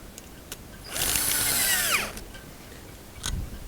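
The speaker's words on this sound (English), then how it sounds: "and then tighten the nut." A power tool whirs for about a second while tightening the nut on a Kover Klamps cover clamp, a loud high-pitched buzz with falling pitch, framed by light clicks and a brief thump near the end.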